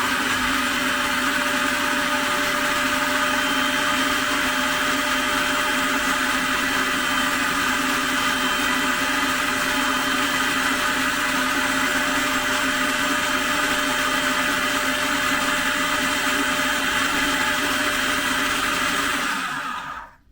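A kitchen blender runs continuously at high speed, blending garlic chilli mayonnaise in one loud, steady whirring blast before cutting off abruptly at the end.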